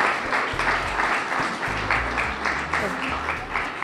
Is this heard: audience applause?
yes